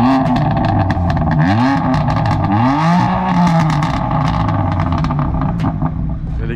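BMW M4 with a competition exhaust line revving hard, loud and close, with rising and falling engine sweeps that sustain throughout, rasping and aggressive with no talk over it.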